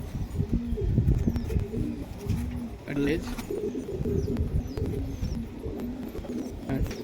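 A loft of breeding pigeons keeps up a steady low cooing, repeated throaty rolls layered over one another while someone talks briefly close by.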